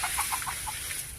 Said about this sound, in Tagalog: Ayan, ang dami nilang mga manok.